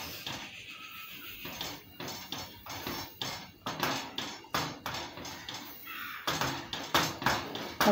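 Vermicelli is added bit by bit and stirred in a pan while making kesari, making rhythmic, repeated scraping and clattering strokes close by with short pauses.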